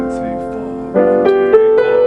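Jazz piano comping with left-hand closed-position seventh chords: a soft sustained sound, then a run of firm, evenly spaced chord strikes about a third of a second apart.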